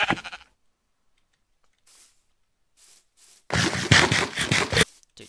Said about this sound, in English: Is that a family of sheep?